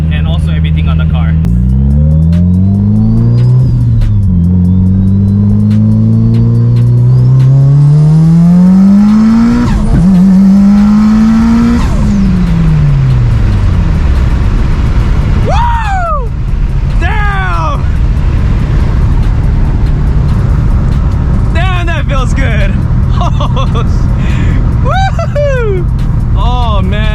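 Mitsubishi Evo 8 fitted with an AGT 62mm turbo pulling hard through the gears, engine climbing loudly with sharp shifts between pulls, later chirping and whooshing turbo sounds as it eases off, heard from inside the car.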